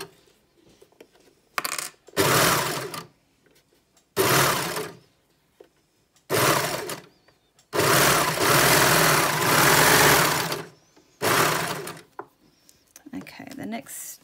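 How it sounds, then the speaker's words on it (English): A sewing machine stitches neck binding on a bralette in several separate runs, short bursts and one longer stretch of close mechanical whirring, with quiet pauses between them. "Once you get to that V, you want to straighten out the fabric underneath. And then keep stitching."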